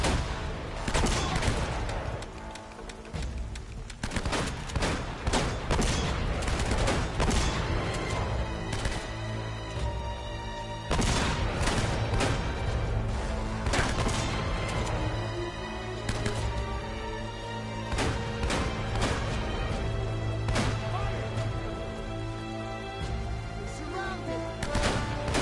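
Sustained gunfire rattles through a firefight in Uncharted: dense, repeated shots and impacts over a continuous loud background of game sound and music.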